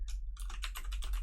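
Brief burst of typing on a computer keyboard, several quick close key clicks in an uneven rhythm, fairly quiet, with no talking.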